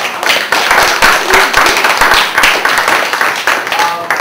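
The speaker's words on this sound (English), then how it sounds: "round of applause for all of our candidates" An audience applauds candidates after a student vice presidential debate, loud close clapping with distinct individual hand claps, lasting about four seconds.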